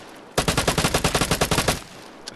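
AUR-A1 assault rifle in the video game Vigor, fired on a shooting range in one sustained automatic burst of about fourteen sharp, evenly spaced shots, close and loud, ending abruptly.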